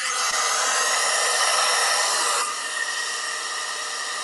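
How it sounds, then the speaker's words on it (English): A hair dryer roars loudly and close while blow drying a wet boiler in a dirt-floor basement, a steady whirring blast that drops slightly in pitch and intensity partway through, with no voices. "blow drying the boiler with my hair dryer"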